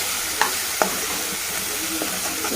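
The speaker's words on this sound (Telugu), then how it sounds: "ఇప్పుడు మనం పసుపు, ధనియాల పొడి, కారం అన్నీ వేసాము. ఇది మంచిగా కలపాలి." Curry of pigeon peas with turmeric, coriander powder and chilli powder frying in a pan, a steady close sizzle with a few sharp scrapes of a spoon stirring, no talk.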